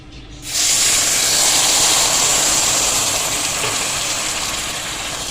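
Sugar and milk hit a hot pot of parboiled rice for sweet mutanjan, a degi-style zarda, and a loud steamy sizzle bursts up suddenly. It then settles into a steady hiss that slowly fades a little.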